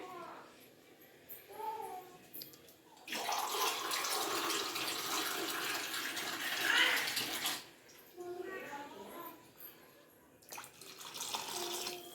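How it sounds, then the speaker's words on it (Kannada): Water is poured into a cooking pot while making a winter horse gram rasam, a broad splashing rush lasting a few seconds, with quieter kitchen handling sounds and brief bits before and after. "ಇನ್ನೊಂದು ಸ್ವಲ್ಪ ನೀರು ಹಾಕೊಂತೀನಿ"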